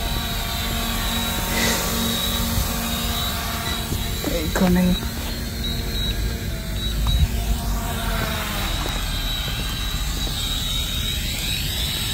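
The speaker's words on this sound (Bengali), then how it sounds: "তো আমার ড্রোনটা চলে আসছে" A drone returning and approaching after losing its connection gives a steady whirring buzz with a constant high whine that holds for the whole stretch, and a voice speaks briefly.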